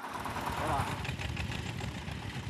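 A tractor sowing changpeng seeds in Beijing's anti-desertification planting runs at a steady, rumbling engine drone, close and continuous, with a voice faintly present underneath.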